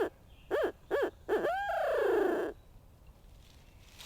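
An owl locator call imitates a hooting owl: four deep hoots, three short and evenly spaced, then one long drawn-out hoot that slides downward. The hoots are close and clear against quiet background.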